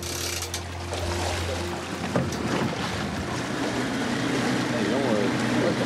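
A fire brigade boat's motor hums along a flooded street, over splashing water and wind buffeting the microphone, continuous and fairly close, with faint voices in the background.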